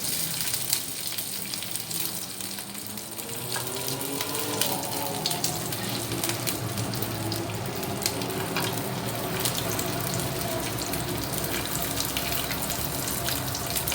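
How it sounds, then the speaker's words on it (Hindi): Mutton chops frying over low heat in a pan, giving a steady, soft sizzle and bubbling that holds evenly throughout with no talking. "इनको बिल्कुल हल्की आंच पे फ्राई करना है।"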